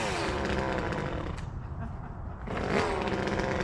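A $135 budget chainsaw idling near at hand, its engine note sagging and nearly dying out midway before catching and revving back up again.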